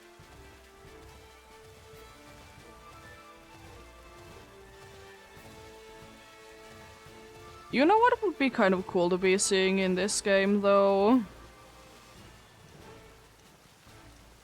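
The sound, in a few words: rain falling in a video game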